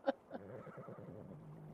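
Horse whinnying in a roleplay video game, one short whinny at the start and a brief second call, followed by low steady game ambience without talk.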